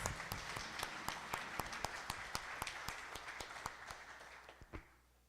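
A church congregation applauds during a Portuguese-language sermon, distinct individual claps ringing out over a quiet room and thinning toward the end.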